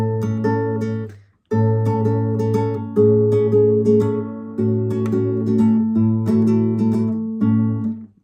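Guitar plays the intro riff of a song, picked chords ringing clearly and alone, with a short gap near the start before the pattern resumes and repeats.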